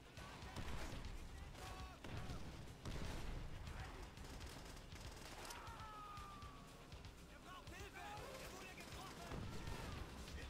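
Gunfire in the World at War video game, with dense overlapping shots and explosions in a continuous loud battle din, mixed with game voices shouting.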